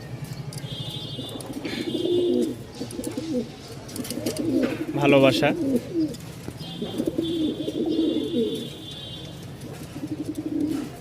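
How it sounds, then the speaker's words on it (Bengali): Pigeons coo repeatedly at a pigeon seller's stall, their low burbling calls rising and falling throughout, mixed with brief chirps and someone talking over them. "আমাদের এরকম অনেক কবুতর আছে যেগুলো খুবই মাশাআল্লাহ ফুল মুডে আছে, দেখছেন।"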